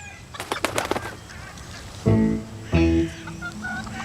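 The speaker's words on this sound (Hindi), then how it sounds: "ये तो मुर्गे हैं यार।" Flapping and scuffling followed by two loud, harsh rooster calls close by, with a fainter cluck trailing after.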